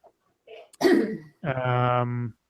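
A single close, sharp sneeze bursts out after a quick inhale, followed by a short voiced sound, in an otherwise quiet room.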